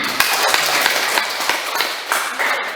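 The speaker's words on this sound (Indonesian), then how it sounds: "Tepuk tangan untuk teman" Classmates in a classroom clap for a fellow student, a short burst of close, uneven hand claps with sharp individual slaps.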